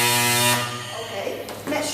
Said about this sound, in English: you press the welding for like 2 to 3 seconds, depends on the thickness of your strap